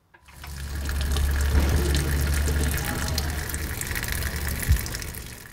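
Fuel draining from a hot rod's fuel tank as a steady, close gushing pour that starts abruptly and runs on evenly, like liquid splashing into a container.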